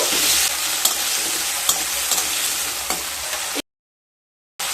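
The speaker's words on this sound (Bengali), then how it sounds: "কেটে রাখা দুটো মিডিয়াম সাইজের আলু দিয়ে দেব। একটু নেড়ে নেব।" Two medium potatoes fry in hot, fragrant oil while being stirred, a loud continuous sizzle punctuated by a few sharp scraping knocks of the spatula, then cutting to brief silence before resuming.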